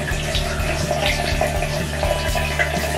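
Tap water runs steadily into a sink while someone wets their face, a loud, close, continuous splashing rush with no talk.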